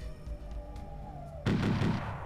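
Artillery fire in the strategy game C&C: Tiberian Sun: Firestorm, a sudden loud burst of booming shots that cuts in after a quieter stretch of game ambience with a falling tone.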